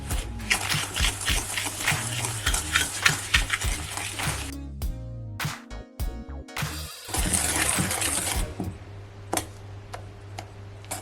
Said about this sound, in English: start beating until you get a creamy light texture